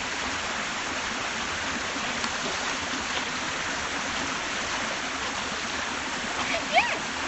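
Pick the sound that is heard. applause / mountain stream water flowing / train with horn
mountain stream water flowing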